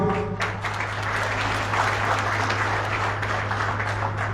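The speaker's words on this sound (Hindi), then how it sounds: "मैं आवेदन करूंगा कि जोरदार तालियों से स्वागत" Steady applause from a sizable crowd at a political rally in Badagaon village, Indri, dense and continuous throughout, with a low steady hum underneath.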